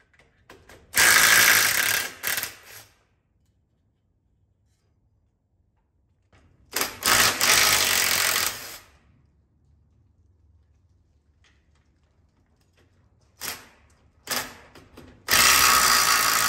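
A ratchet loosening rusted bolts on a GM 8.6 rear end during an overhaul, heard as three loud bursts of rapid clicking separated by quiet pauses, close to the microphone.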